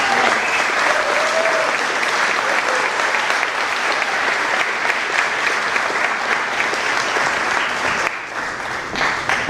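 Sustained, loud audience applause fills a Special Olympics car show gala, dense steady clapping from a large crowd that carries on for several seconds before thinning slightly near the end.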